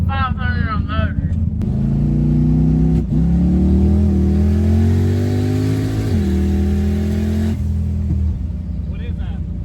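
Twin-turbo big-block Ford Fairmont engine revving hard on a test pull, a loud, rising roar that climbs in pitch, drops at a shift, climbs again and then cuts off, with voices briefly before and after.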